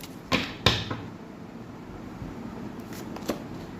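Tarot cards are shuffled and drawn by hand, with two crisp riffling snaps close together early on, then a quiet stretch and a few lighter flicks near the end, with no voices.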